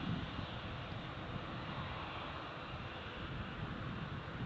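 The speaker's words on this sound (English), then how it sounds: "There is the TUI Dreamliner" A TUI Boeing 787 Dreamliner at Newcastle Airport gives a steady, broad jet-engine roar, moderately distant and even in loudness throughout, with no voices and rain-damp air around it.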